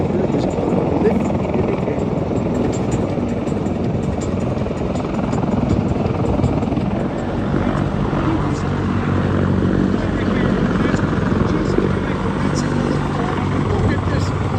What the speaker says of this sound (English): this giant over 10 tons helicopter is called Lift